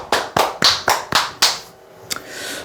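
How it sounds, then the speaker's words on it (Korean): A small group at a lecture gives a brief round of claps, five or six sharp, distinct strikes in a loose rhythm, close and loud, then fading into quiet room tone. "박수 한번 치시죠."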